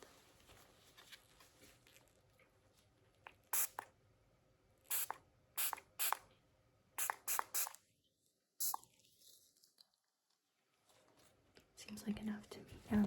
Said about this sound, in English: I'm going to spray some of this onto this cloth.